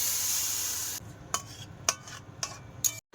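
Fish curry being stirred and fried in a pan: a steady sizzle that drops away, followed by four or five sharp scraping strokes of a utensil against the pan, close and clear, with no talk.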